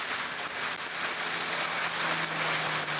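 A Mustang fighter aircraft flies past at an airshow, its engine a steady broad roar with a high whine, fairly distant and continuous with no voices.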